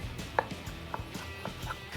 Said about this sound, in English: All there is to do now is slice some of this up